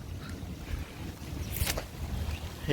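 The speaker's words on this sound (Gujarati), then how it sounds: "ભાઈ પવન બહુ આવે છે" Strong wind gusting on a rainy day in a village under dark clouds, a steady rumbling buffet that swells near the end, with a brief hiss midway.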